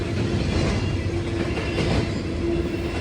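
A Norfolk Southern freight train runs past at Elkhart station, Indiana, with its distributed power locomotive going by close and loud in a dense, continuous roar and clatter of wheels on rail.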